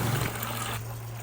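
Hot water runs from a tap onto a basket of mats being washed, a steady close gush with a low hum beneath and no talk.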